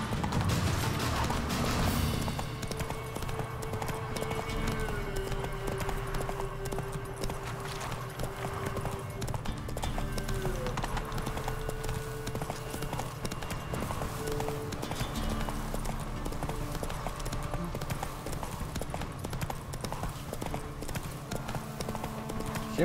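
Roach the horse galloping in The Witcher 3: a steady, rhythmic clip-clop of hooves running continuously for the whole stretch, with game music and ambience beneath and almost no talking.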